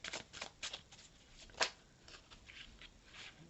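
Oracle cards are shuffled by hand in a quiet room, a series of soft riffling flutters with one sharper snap partway through, close and faint.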